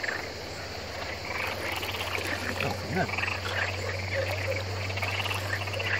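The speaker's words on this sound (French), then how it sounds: "Les grenouilles. Des grenouilles bizarres quand même." Frogs croak steadily in the Amazon rainforest, a dense, constant chorus with chirping insects. A short spoken remark briefly sits on top.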